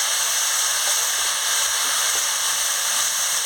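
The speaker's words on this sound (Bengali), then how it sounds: "দিয়ে ভালো করে আনাজটাকে নাড়িয়ে নিচ্ছি।" Steady, dense sizzle of chopped vegetables with telakucha (ivy gourd) leaves frying in oil, seasoned with salt and turmeric for a chorchori, with faint scraping as they are stirred in the pan; continuous and close, with no talk.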